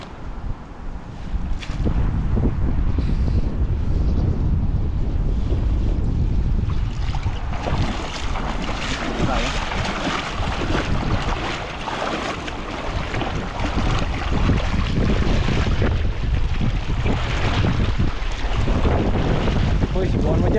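Strong wind gusts batter the microphone outdoors near a wild tomato patch, a loud roaring rumble that surges and swells in waves for the whole stretch, with no clear talk over it.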